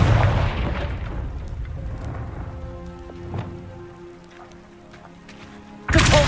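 A Confringo fire spell blasts in the Hogwarts Legacy video game: a loud whooshing burst that decays under sustained tonal game music, with a faint thump midway and another sharp blast at the end.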